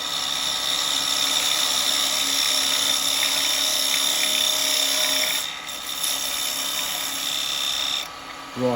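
A woodturning lathe cuts a small wooden pendant with a continuous whining, scraping tool noise close by, briefly dipping near the end before resuming.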